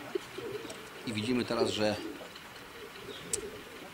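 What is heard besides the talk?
racing pigeons circling and landing at a pigeon loft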